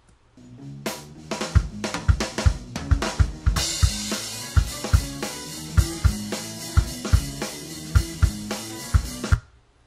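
Drum kit captured through the overhead mics, compressed and EQ'd with the low end cut to reduce the bass drum: a steady groove of crisp snare hits and sharp cymbal crashes with bright ringing wash, close and loud, no voices.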